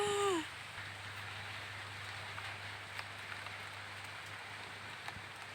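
Steady rain beginning outdoors in a garden with papaya trees, a continuous wash of patter from start to finish, with a brief tonal sound at the very start.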